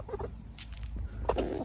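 A backyard flock of chickens including a Plymouth Barred Rock, soft close clucking and murmuring calls in short bursts.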